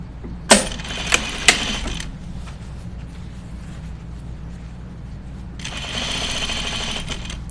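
Domestic sewing machine stitching a 5/8-inch crotch seam on jeans: a few sharp clicks at the start, a quiet stretch of low hum, then a steady run of fast stitching near the end, close and without talk.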